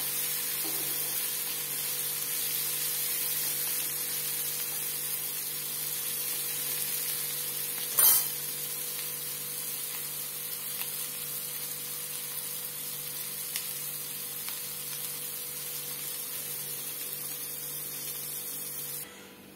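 Prawns fry in a pan with a steady, fine sizzle over a faint electrical hum, continuous and fairly quiet, with one brief louder crackle partway through.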